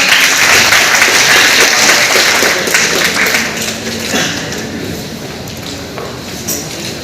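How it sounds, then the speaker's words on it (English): Applause from an audience at a college orientation programme: dense clapping that starts loud and gradually thins and fades, with a few scattered claps near the end. "Everyone big round of applause."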